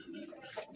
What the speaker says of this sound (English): We have the doves, which we call the pigeons.